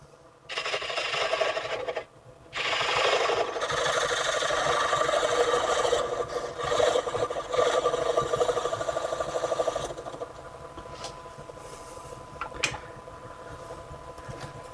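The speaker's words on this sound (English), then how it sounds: "I'm going to take a small skew chisel and I'm going to carve this on an angle" A small skew chisel carves an angled cut on a spinning wooden toy wheel on a lathe, giving a sustained scraping, rasping whir close up. It breaks briefly near two seconds and fades to lighter ticks toward the end.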